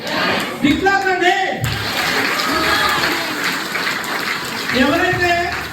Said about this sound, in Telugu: బిగ్ క్లాప్ అండి